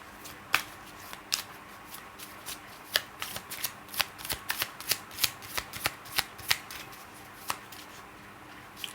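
Lenormand cards being shuffled by hand, a run of crisp riffling snaps and flutters, close and fairly quiet, coming in uneven bursts with no voices.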